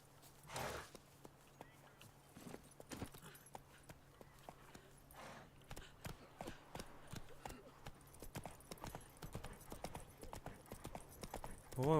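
A horse's hooves clip-clop steadily in a video game, a faint, even walking rhythm of hollow knocks that quickens and grows busier toward the end.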